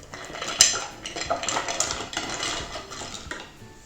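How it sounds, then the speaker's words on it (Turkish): Chocolate going into hot cream for ganache and being stirred, with clinks of utensil against pot or bowl, scraping and light clatter throughout, close and moderately loud, no talking. "Şimdi çikolatamızı ekliyoruz."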